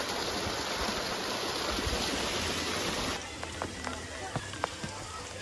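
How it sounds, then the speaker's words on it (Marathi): A stream flows along a Maharashtra fort trek, a close rushing wash of water that drops away partway through, leaving fainter trickling and a few scattered knocks and clicks. "हा पाण्याचा झुळझुळ आवाज चांगला मंत्रमुग्ध करून टाकतो."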